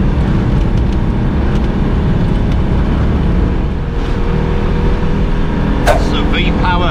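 A Citroen 2CV engine running on Shell V-Power petrol, its loud, steady buzzing drone continuous throughout, with a brief high-pitched squeak near the end.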